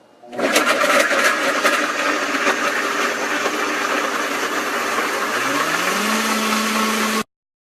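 A Vitamix blender whirs loudly and steadily, blending a green smoothie packed with baby spinach. It starts abruptly, holds a constant roar with a rising tone near the end, then cuts off sharply into silence.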